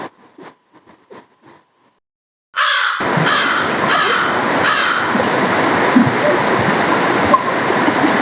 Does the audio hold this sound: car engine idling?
no